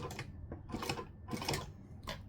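A sewing machine stitches a pocket seam in short bursts, running forward then reversing, with brief mechanical whirs separated by pauses, quiet and close.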